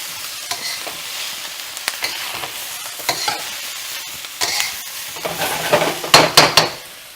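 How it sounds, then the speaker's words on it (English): Shrimp and vegetable stir fry with bamboo shoots in spicy brown sauce being stirred in a hot pan, a soft sizzle under scraping utensil strokes that grow louder and more frequent toward the end. "Stir to incorporate."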